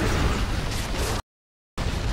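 A bomb explosion in the video game Gears of War: Judgment, a loud broadband blast that fills the first second before a sudden cut to silence, then resumes at full level.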